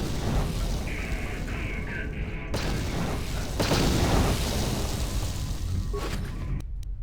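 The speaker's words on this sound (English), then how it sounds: "that big explosion that just happened right there" A large explosion aboard the Endar Spire starship in Star Wars: Knights of the Old Republic, a dense roaring boom with rumbling debris that swells midway, heavy and continuous across the clip.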